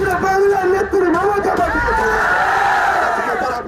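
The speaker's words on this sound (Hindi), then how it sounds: "अब्बास सिद्दीकी की रैली में ये भीड़ देखिए" A large, dense crowd at Abbas Siddiqui's political rally in Bengal: loud, continuous hubbub of many voices with shouting and chanting swelling throughout.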